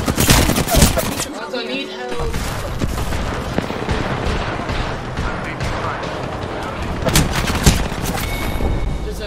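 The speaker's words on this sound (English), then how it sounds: "I can't be careful when there's someone shooting me!" Rapid, loud gunfire from Apex Legends, close bursts of automatic shots and impacts nearly continuous throughout, with a player's voice talking over the firing.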